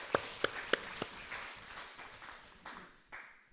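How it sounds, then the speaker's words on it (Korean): A church congregation at a Bible reading gathering offers a few sharp, separate claps in a quick row, then softer scattered clapping and shuffling that trails away into quiet. "우리 박수로 크게 한번 격려 한번 하겠습니다"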